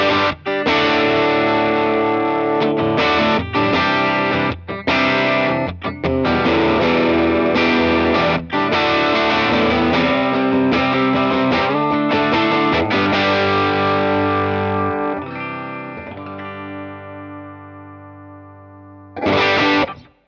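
Strat-style electric guitar on its bridge pickup, run through a Line 6 Helix with distortion, plays a loud, sustained driven passage of chords and notes, then rings out and fades before one last brief strum.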